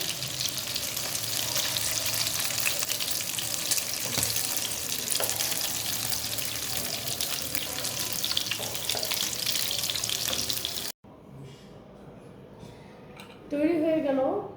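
Chicken kathi kebab sizzles steadily in a frying pan for about eleven seconds, a loud continuous crackle, then cuts off abruptly to a quieter kitchen background with a brief voice near the end.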